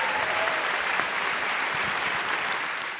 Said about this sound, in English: One more round of applause for our extraordinary speakers.